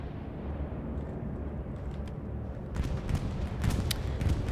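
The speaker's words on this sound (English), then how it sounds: "Bombing run coming in from the Axis" Bombing run in Hell Let Loose, heard as a dense, rumbling barrage of explosions that builds and grows sharper and louder after the first few seconds, with continuous low booms.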